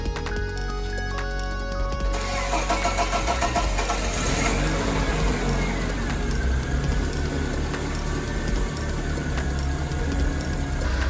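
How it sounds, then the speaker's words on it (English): A BMW E36 car engine cranks and starts cold after a head gasket replacement, then settles into a loud, steady idle that runs on without pause. "the car is running surprisingly smoothly"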